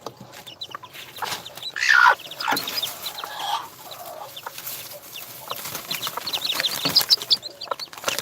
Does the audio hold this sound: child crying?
no